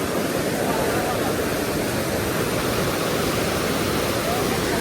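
The Gahniya waterfall in Korba, Chhattisgarh, roars close by, a loud, unbroken broadband rush of falling water that stays constant throughout.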